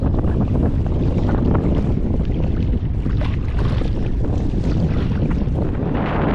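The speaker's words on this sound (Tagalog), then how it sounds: "Grabe yung alon mga idol." Rough sea during a typhoon at high tide near moored fishing boats, with a dense, continuous roar of surf and wind buffeting the microphone, loud and unbroken throughout.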